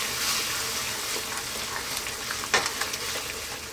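A spicy ground beef mixture for stuffed zucchini cooks in a pan on lower heat, giving a steady close sizzle and bubbling hiss with a few brief stirring scrapes near the end.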